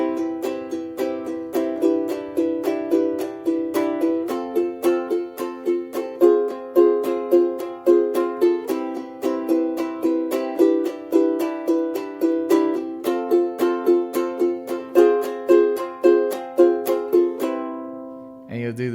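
Ukulele strumming the chords of a song, a steady rhythmic strum pattern with clear repeated strokes and chord changes, close and alone, ending with a final ringing chord.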